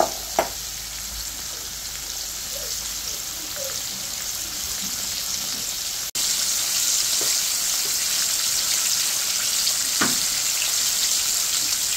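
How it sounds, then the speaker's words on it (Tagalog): Food double deep frying in hot oil, a steady, dense sizzle lasting throughout, with a few faint clinks and stirring knocks over the hiss. "i-double fry ko lang para talagang crispy talaga siya"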